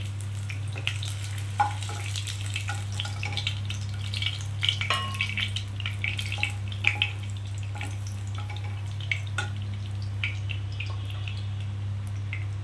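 Catla fish pieces shallow-fry in oil, with a continuous crackling sizzle and scattered pops at close range over a constant low hum.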